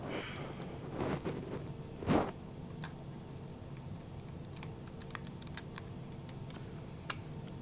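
Steady computer keyboard typing with scattered key clicks over a constant background hum from a flight simulator cockpit session, with one louder thump early on and no voices.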